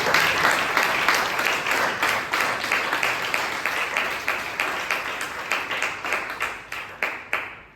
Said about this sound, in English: Please give Tirumalesh a huge round of applause